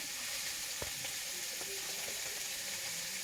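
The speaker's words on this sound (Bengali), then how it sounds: "হালকা করে চিংড়ি মাছটা আমি ভেজে নিয়েছি।" Prawns frying in hot oil give a steady, dense sizzling hiss that fills the whole clip, with a couple of faint knocks underneath. No one speaks.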